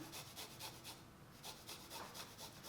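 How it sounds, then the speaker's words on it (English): A garlic clove is grated over a pan, giving quiet, close rasping strokes in a quick regular rhythm with a short pause midway and no voices. "I'm actually going to grate my garlic clove in this pan."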